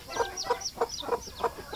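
Zamboanga native chickens cluck in a steady series of about six short, close calls spaced evenly, with no other sounds competing.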